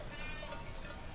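A Palu sheep, an endemic breed from Central Sulawesi kept as a research animal in a pen, gives a faint, brief bleat against a low, steady background.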